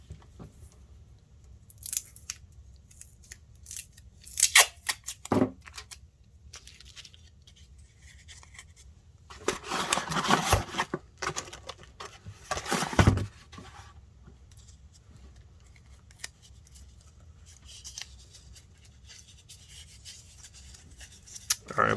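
Paper mache portrait form being taped together: intermittent rustling, crinkling and sticky tape tearing in close bursts, with quieter handling of paper between them, no talking.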